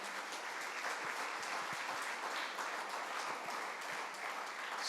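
A church congregation applauds together during a sermon on suffering, a steady dense wash of clapping at moderate level with a few sharper individual claps standing out, continuous from start to finish without speech.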